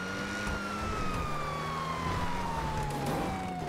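Police car siren in a GTA roleplay video game, a steady gliding wail sounding continuously and fairly loud throughout, set over a dense background of engine and traffic noise.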